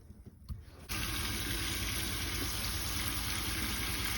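Shower head in a Winnebago Hike 100 RV running pink antifreeze during winterizing: after a few faint clicks, a steady, full hiss of spraying water starts abruptly and keeps flowing evenly, close and alone.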